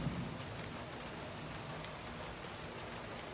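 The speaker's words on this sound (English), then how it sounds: "It is raining." Steady rain falling outdoors in Florida, an even hiss of drops on surfaces, moderately faint and continuous with no voices.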